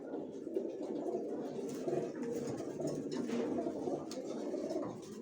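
Racer pigeon chicks coo steadily and softly at close range, a continuous murmur of overlapping low calls with no talking.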